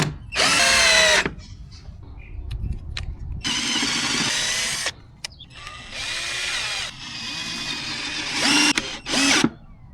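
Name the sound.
21V cordless drill running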